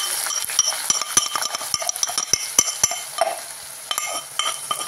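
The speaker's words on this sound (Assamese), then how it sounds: "আৰু এতিয়া দিম আদা নহৰু পেষ্ট আৰু পিয়াজ।" Ginger garlic paste and onion fry in a pan with bay leaves for an Assamese chicken dish, a constant sizzle broken by repeated sharp clinks and scrapes of a metal spoon stirring against the pan.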